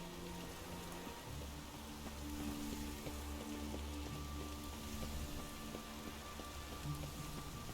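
Steady rain falls in The Witcher 3 video game, a soft, even hiss of drops on surfaces that stays constant throughout, with no voices over it.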